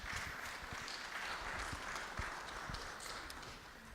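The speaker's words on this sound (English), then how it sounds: "Please give her a warm round of applause." Conference audience applauds in a soft, distant wash of many hands clapping, steady throughout with a few sharper individual claps standing out.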